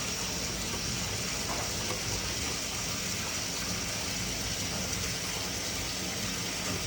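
Water rushing through household pipes near a hot water heater as the valves are being shut off, a faint, steady hiss and gush that continues evenly without voices.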